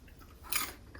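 A single crisp bite and crunch of a hot, freshly cooked Kung Pao chicken ingredient, close and brief, with soft chewing around it.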